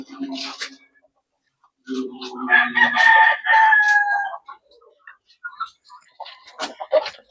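A heritage chicken rooster lets out one close, loud crow in the middle of a mixed flock, surrounded by shorter clucks and calls from other birds.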